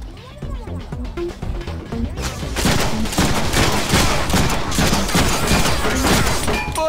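Dense, loud gunfire in the Deadpool video game, with rapid bursts building into a continuous fusillade with crashes and impacts, mixed with game music and voices.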